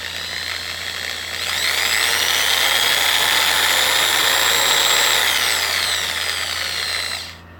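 A worn model tire is sanded slowly with a sanding stick, giving a steady, close, continuous whirring rasp. It holds even for several seconds and then cuts off near the end, with no talking.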